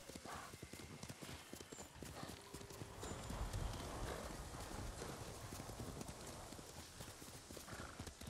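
A horse's hooves clip-clop in a steady rhythm in the video game Ghost of Tsushima, with a whinny mixed in, over a dense ambient game soundscape at moderate distance.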